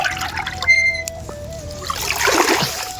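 Water is scooped from a pond in a bucket outdoors, to carry to home-grown eggplant plants. A soft splashing slosh rises near the end after quieter outdoor background, with no talk.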